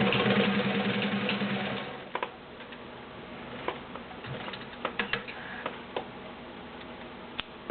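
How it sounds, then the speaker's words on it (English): Sears Kenmore model 1813 cam sewing machine stitching thick cotton, a fast whirring run that breaks off into sparse irregular ticks and clicks as the mechanism slows, close and fairly quiet. "That is the Sears Kenmore model 1813 cam machine."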